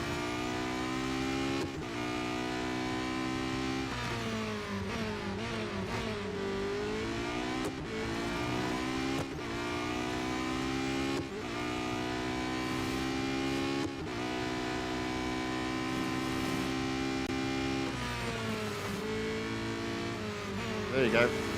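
A Porsche 919 Hybrid Evo race car engine in the Real Racing 3 video game whines steadily at high revs, rising and dropping with repeated gear shifts throughout, loud and continuous, with a voice talking over it.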